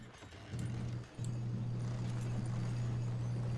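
Horse hooves clip-clopping at a steady trot in the video game Red Dead Redemption 2, with a steady low hum under the close, rhythmic hoofbeats and a brief pause near the start.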